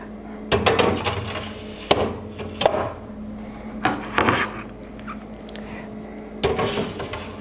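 Several separate clattering knocks of metal trays of frozen eggs sliding and bumping into place in a freeze dryer, in bursts with pauses between, over a steady low machine hum.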